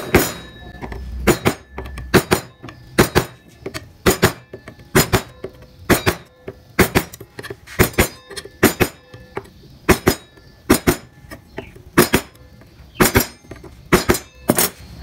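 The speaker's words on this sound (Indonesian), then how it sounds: "kalian harus membuat dasaran pinggiran terlebih dahulu menggunakan pahat penguku yang sesuai dengan ukuran" Sharp, evenly spaced mallet strikes drive a penguku gouge chisel into wood while carving a base along an edge, about twenty close, crisp knocks in a steady working rhythm with brief quiet gaps between them.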